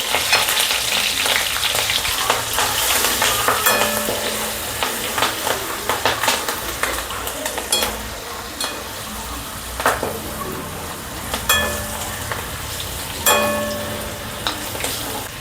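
Stirring ingredients with turmeric in a hot pan for kadhi bhel, a continuous frying sizzle broken by repeated scraping and clinking spoon strokes against the pan, loud and close.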